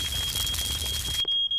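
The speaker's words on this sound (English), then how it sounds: "the smoke alarm's going off." A shrill, steady smoke alarm beeps continuously over a crackling, hissing background, then cuts off abruptly near the end.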